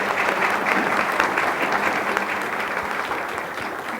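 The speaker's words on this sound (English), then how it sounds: "Please join me with one more round of applause welcoming these students." Audience at a formal school board meeting applauding students, a sustained round of dense clapping that slowly tapers off without any talking.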